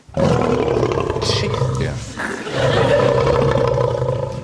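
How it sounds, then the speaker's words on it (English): A lion roars loudly and continuously, a deep rumbling growl sustained across the whole stretch with a brief dip midway, with a short spoken word briefly over it. "This is the sound of a lion."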